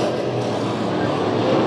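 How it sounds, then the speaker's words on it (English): Sport mod race cars in a heat race at Bakersfield Speedway, a steady engine roar from several cars running together at a distance, without much rise or fall. "3-car battle up front here in the second heat race at Bakersfield Speedway"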